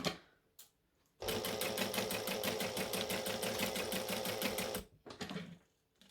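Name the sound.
sewing machine stitching fabric for Christmas shorts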